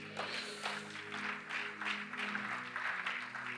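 A congregation at an evening youth camp preaching session claps, with rhythmic bursts of handclaps rising and falling over a sustained tonal hum, moderately faint.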